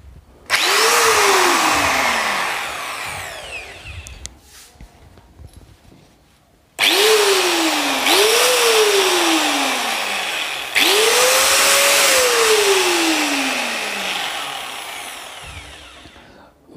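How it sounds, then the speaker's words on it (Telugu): A low-priced electric angle grinder switched on three times, each start a loud, close whine that spins up and slowly winds down, with brief near-silent pauses between runs. "ఒకసారి మనం మిషన్ అయితే ఆన్ చేసి చూద్దాం. సౌండ్ ఏ విధంగా వస్తుంది ఏంటి అనే దాని గురించి తెలుస్తుంది."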